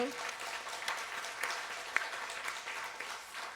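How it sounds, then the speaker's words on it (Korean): A church congregation at a Korean Sunday morning service claps together, a steady, moderately loud wash of applause with one sharper clap standing out partway through. "우리 하나님께 영광의 박수 한번 드리겠습니다"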